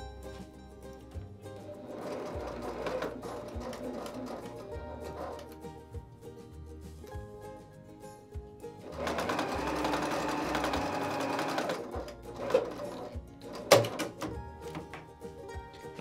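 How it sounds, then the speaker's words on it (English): Sewing machine stitching around the corners of a fabric basket, bursts of rapid mechanical whirring separated by quieter pauses, with a sharp clunk near the end. "as we're sewing around here"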